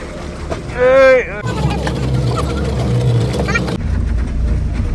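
A motorboat engine drones low and steady beneath a brief loud voice, with wind and water noise of the Arabian Sea filling the background throughout.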